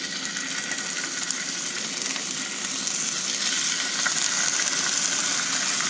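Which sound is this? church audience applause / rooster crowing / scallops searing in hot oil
scallops searing in hot oil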